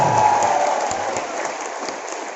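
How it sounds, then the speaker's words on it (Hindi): Loud applause from the audience at a live Chhattisgarhi comedy and poetry show in Raipur, a dense crowd wash of clapping that stays strong then eases slightly, with no voices over it. "एक बार जोरदार तालियां"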